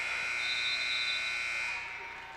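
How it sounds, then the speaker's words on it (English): A women's basketball game buzzer sounds at halftime, one sustained electronic tone ringing out over crowd noise in the gym before fading. "Buzzer sounded while the ball was in flight, but deemed no."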